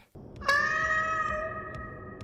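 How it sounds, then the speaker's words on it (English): A cat in the VR game Ghosts of Tabor lets out a single long, clear, tonal meow that starts abruptly and slowly fades, with a few faint clicks behind it. "There's a cat in the game?"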